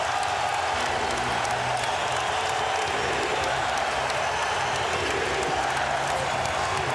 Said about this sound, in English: They are back in the game, and listen to this crowd.